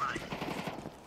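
Rapid bursts of video game gunfire rattle off at a steady pace, moderately loud, with a voice briefly heard over the shooting.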